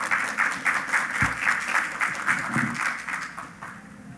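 Warm audience applause welcoming a vice minister at a sustainable transport conference in Cusco, dense rhythmic clapping from a sizeable crowd that swells in pulses and tapers slightly toward the end.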